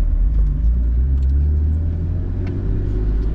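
A BMW E36 engine hums at low revs while the driver works the clutch, a steady close rumble from inside the car with little change in pitch.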